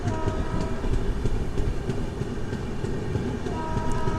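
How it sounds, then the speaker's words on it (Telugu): A passenger train pulls out of Vinukonda railway station, loud and close, with a steady rumble, rolling wheel clatter and a sustained horn tone running through, no voices. "మన ట్రైన్ బయలుదేరిపోయింది"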